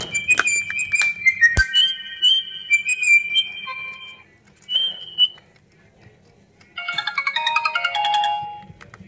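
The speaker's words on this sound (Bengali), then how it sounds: "ফোনটির যে রিংটোনের সাউন্ড এটা একটু চেক না করলে কেমন হয়, চলুন দেখি।" A 5 Star X26 button phone plays its ringtone alone: bright chirpy synthetic tones in quick bird-like phrases, a sustained whistle-like note, short pauses, then a rapid trilling burst of electronic notes near the end.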